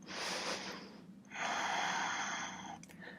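Two long, deep breaths during a yoga practice, each a broad airy rush that swells and fades. The second breath is louder, with a brief sniff-like catch near the end. No one speaks.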